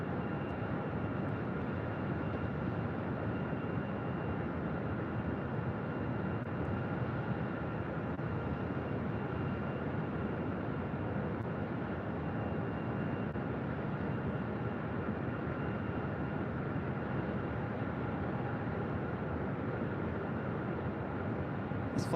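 An American Airlines Airbus A319, an old America West airframe arriving from Omaha at Phoenix, gives a steady, continuous broadband engine roar that holds at an even level throughout, with no voices over it.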